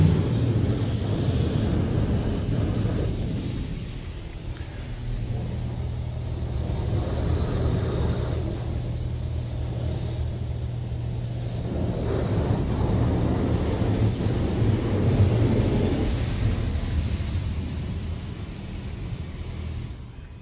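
Spot-free rinse stage of a PDQ LaserWash 360 Plus third-generation automatic car wash, heard from inside a van: a steady hiss of spraying water with a low hum beneath, rising and easing in waves over about twenty seconds.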